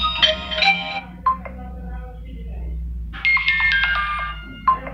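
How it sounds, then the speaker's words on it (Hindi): A Vivo Y20T phone plays a notification ringtone: bright melodic chimes in two bursts with a quieter gap between, close and clear. "अरेंजमेंट की बेल सेट कर दी अपने नोटिफिकेशन रिंगटोन पर।"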